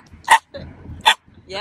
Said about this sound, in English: That was an unfamiliar bark.